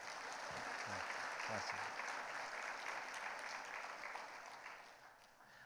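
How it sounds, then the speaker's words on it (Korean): Church congregation applauding in congratulation of the parents of a newly married daughter during a Korean Sunday worship service, a steady broadband wash of clapping that fades slightly toward the end, with a brief spoken reply near the start. "두 분 대신에 부모님에게 우리 축하의 박수 한번 드리겠습니다"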